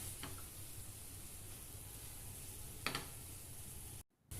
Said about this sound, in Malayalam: ഇഞ്ചി വെളുത്തുള്ളി ചേർക്കാം. പച്ചമുളക് ചേർക്കാം. അല്പസമയം കൂടി ഇളക്കി വഴറ്റാം.